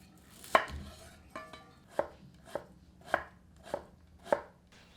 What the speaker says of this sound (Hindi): रेसिपी के अगले चरण में 2 मध्यम आकार की प्याज को एकदम बारीक काट लेते हैं।